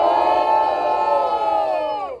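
A large crowd at a Brazilian rap battle roars and shouts together in one loud, sustained burst that fades slightly toward the end.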